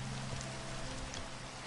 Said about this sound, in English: Half snow, half rain up here, so it's kind of fun.